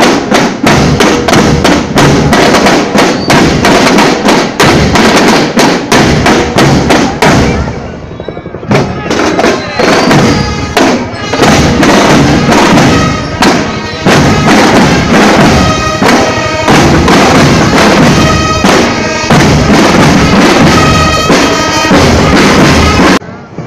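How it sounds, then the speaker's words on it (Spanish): Gunfire from a combat demonstration at a Salvadoran military parade: rapid, loud bursts of shots and thuds, dense and continuous with brief lulls, near and booming throughout. "Los que están escondidos le disparan de lejos."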